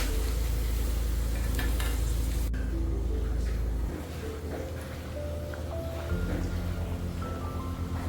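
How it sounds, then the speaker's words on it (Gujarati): Eggplant and potatoes frying slowly in oil over a low flame, a soft continuous sizzle heard up close with faint background hum, with no talking. "ધીમી ફ્લેમે જ આપણે રીંગણા અને બટેટા તળવાના છે"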